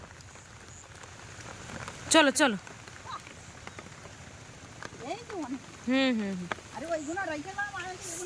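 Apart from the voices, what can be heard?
rain falling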